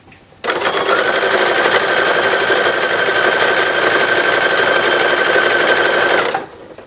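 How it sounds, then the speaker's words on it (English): A sewing machine runs continuously for about six seconds, stitching brown ribbon sleeve edging onto a 1910s-1920s infant wrapper, with a loud steady mechanical whir that starts and stops abruptly. "Alright, sewing on the sleeve edging first."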